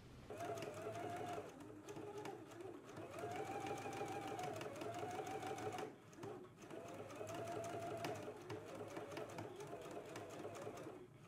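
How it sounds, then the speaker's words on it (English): A domestic sewing machine stitches fabric in place in steady whirring runs, with its motor pitch rising and falling as it starts, pauses and continues, close and clear. "Okay, I'm gonna go ahead and stitch it in place, following along with my marking that I just transferred."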